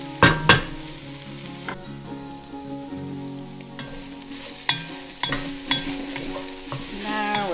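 Vegetables frying in a pan on the homestead are stirred with sharp, close scraping strokes over a continuous sizzle, with a low musical hum underneath and a brighter, louder frying hiss building in the second half.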